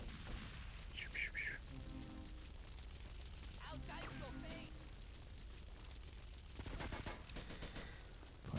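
Gunfire in Grand Theft Auto: Liberty City Stories during a mission, with bursts of shots and rumbling blasts under ongoing talk, muffled and mixed with game noise.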